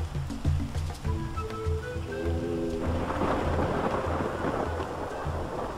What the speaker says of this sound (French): L'orage est quand même... Par contre il pleut dans la base.